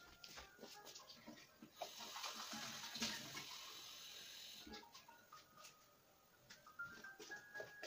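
Tap water runs and splashes while painting water is changed, a steady close hiss with a loud, fuller stretch in the middle and lighter trickles and clinks toward the end.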